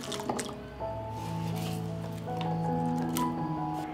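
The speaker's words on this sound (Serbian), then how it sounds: "I ovako iseckane jabuke stavljam u činiju sa vodom i limunovim sokom." Small wet plops and drips as cut apple pieces drop into a bowl of water and lemon juice, repeated in a loose, uneven rhythm at close range.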